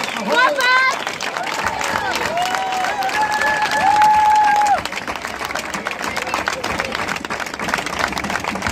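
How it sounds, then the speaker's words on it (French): At a summer folk festival in Issoire, a crowd applauds the Andalusian dance group Adolfo de Castro from Cádiz. Loud, sustained clapping runs throughout, with a voice calling out over it near the start. "vous avez raison de les applaudir"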